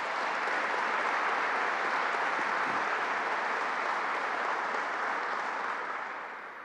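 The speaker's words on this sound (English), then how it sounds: "Let's give them a round of applause" A large crowd at a groundbreaking event for a Greater Rochester project keeps up a dense, even wall of applause for several seconds before it begins to fade at the very end.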